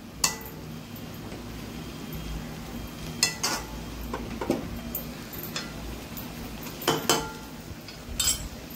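A spoon stirs crushed peanut powder into a vegetable curry in a pan, giving soft scraping and occasional clinks against the metal, faint and close over a low background hiss.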